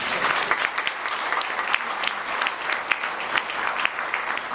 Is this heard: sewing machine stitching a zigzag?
no